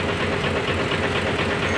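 A vehicle engine keeps running steadily after the key has been switched off and pulled out, a loud continuous idle with a faint knocking rhythm, close by, with no voices.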